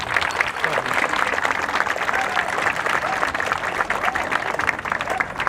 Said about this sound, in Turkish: anne ve babasına çok kuvvetli bir alkış istiyorum